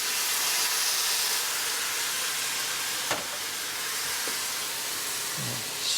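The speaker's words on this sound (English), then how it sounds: "Add a little bit of water to steam it." A steady, loud hiss of steam as water is added to mushrooms in oil in a hot pan fills the whole stretch, with a brief crackle midway and a faint knock near the end.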